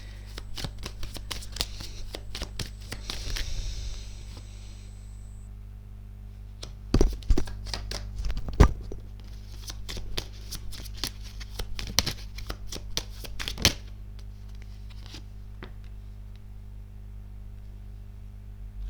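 Tarot cards are shuffled close by in repeated bursts of riffling and soft slaps, with some sharper taps and a quiet hum beneath and no talking.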